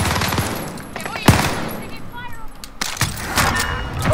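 Close, loud bursts of automatic gunfire in Call of Duty Warzone Pacific crack through the scene in several quick volleys, with players' voices and radio chatter talking over them.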